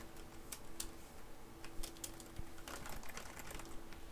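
Typing on a computer keyboard, irregular clusters of light clicking keystrokes over a steady low room hum, close and fairly quiet, with no voices.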